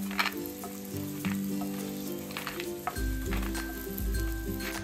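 Lentil dumplings fry in hot oil with a steady, crackling sizzle, close up, while a faint tonal hum runs underneath.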